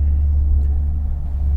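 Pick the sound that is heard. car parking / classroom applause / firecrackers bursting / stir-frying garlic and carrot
car parking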